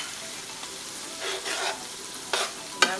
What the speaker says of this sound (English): So I'm gonna put some onions in my oil. Yep, it's ready. Let it fry.